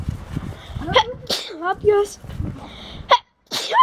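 A sudden sharp sneeze cuts through lively Dutch conversation in a home setting, with people talking around it.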